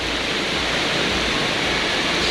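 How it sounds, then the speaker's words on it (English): Water spilling off a rock edge as a small waterfall in the stormy Hocking Hills, a loud, steady broadband rush with no pauses. "There's water coming off the edge of it like a little waterfall."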